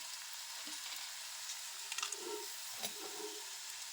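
Peanuts tossed into a hot frying pan while cooking matki usal give off a soft, steady sizzle with a few faint stirring scrapes and small pops, quiet throughout.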